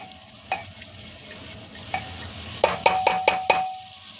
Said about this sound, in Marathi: आणि आता आपण कांदा ह्यात परतून घेत आहोत